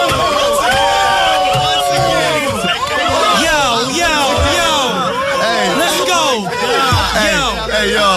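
A rowdy crowd at a rap battle roars, whoops and shouts continuously, a loud dense wall of overlapping voices close around.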